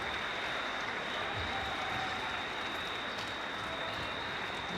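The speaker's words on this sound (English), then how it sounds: "DCU fans cheering on their girls there" DCU Mercy supporters cheer and clap steadily at the under-18 women's cup final against Glanmire, a dense, continuous wash of crowd applause with a faint steady tone running through it.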